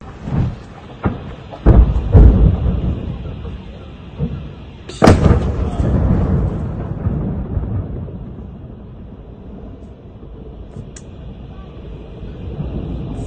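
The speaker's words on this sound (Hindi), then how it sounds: "वहीं रशिया ने यूक्रेन के हथियार के गोदाम को ट्रैक किया और उस पूरे गोदाम को ही उड़ा दिया" Ukrainian weapons warehouse blown up, heard as loud booming blasts with a huge explosion midway, then a long rumbling roar and crackling that slowly fade, with voices in the background.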